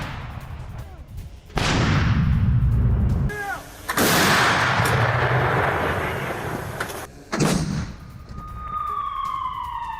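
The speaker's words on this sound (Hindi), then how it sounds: "यूक्रेन के ठिकानों पर तोपों से भीषण बमबारी हुई है।" Heavy Russian artillery bombardment of Ukrainian positions: loud booming blasts and roaring impacts in quick succession, close and dense, with a rising whistling tone near the end.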